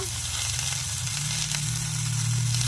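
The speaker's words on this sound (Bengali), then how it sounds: "এগুলো এর সাথে আমি ভালো করে ভেজে নেব এর মধ্যে আবার টমেটোটা দিয়ে দিলাম" Prawn biryani masala with tomato and salt fries in a pan, giving a steady, loud, close sizzle with a faint low hum beneath and no voices.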